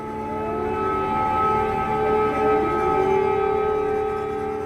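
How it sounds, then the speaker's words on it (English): Air raid sirens wailing across Ukraine on the first day of Russia's full-scale invasion, long steady tones with slowly sliding pitch, loud and continuous over a low rumble of background noise, with no voices. "What you can hear are air raid sirens in Ukraine from the day Russia launched its full-scale war more than 3 years ago"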